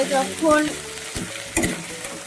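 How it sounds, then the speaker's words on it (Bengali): Ginger and green chili paste fries in a wok for a green-pea kachori filling, with a crackling sizzle and a few sharp scrapes and knocks of a spatula stirring it nearby. "আদার একটা কাঁচা লঙ্কার একটা স্মেল থাকে, সেটা না হয় একটু ভেজে নিচ্ছি ভালো করে"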